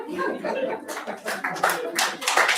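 An audience claps briefly at a board meeting, a scattered patter of hands mixed with voices talking over it.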